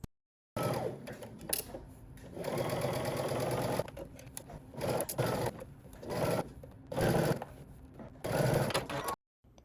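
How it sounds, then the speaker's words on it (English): A sewing machine stitches a 5/8-inch seam allowance around a sleeve for a summer top, running close and steady in several bursts separated by short pauses. "we're going to head to the sewing machine and we're going to stitch all the way around using 5/8 of an inch seam allowance"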